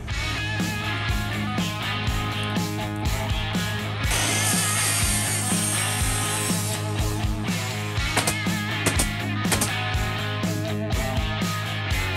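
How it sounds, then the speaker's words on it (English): A saw cutting wood boards to length in a workshop: a steady motor whine with clicks and knocks, broken by a harsh, louder cutting burst of a few seconds midway through. "let's go out to the saw and cut these to 42 1/4 and get our next row done"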